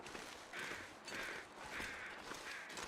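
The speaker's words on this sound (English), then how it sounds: "Those are just flying crows." Crows caw in the video game The Long Dark, four harsh evenly spaced calls at a moderate distance over a steady windy hiss.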